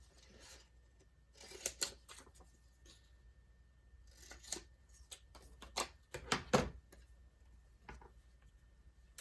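Scissors work around a circle of patterned paper for a note pad, faint scattered snips and paper rustles close by, with a louder cluster of cuts toward the end and no talk.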